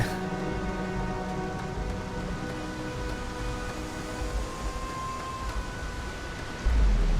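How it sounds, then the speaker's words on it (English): Steady rain hissing continuously in the video game Starfield, with a low hum underneath and no voices. "I guess it's dark because it's raining"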